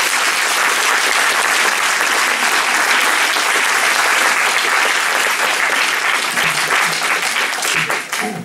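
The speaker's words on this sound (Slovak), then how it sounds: "Poprosím potlesk pre tých rodičov." Concert audience at a harmonica academy performance applauding the parents, a loud, steady wash of clapping that fills the whole stretch and tapers off slightly at the end.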